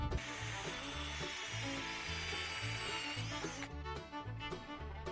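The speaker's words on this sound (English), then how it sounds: "drill a little bit further over" A power drill boring a tap hole into a maple tree for syrup, a steady whining motor with grinding bites into the wood, close and continuous before winding down near the end.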